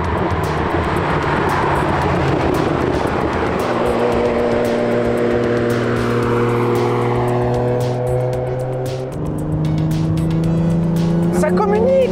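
A Ferrari Testarossa engine howls while driven hard on a race track, revving up through the gears with sharp shift steps, loud and close from inside the car, as a person talks over it.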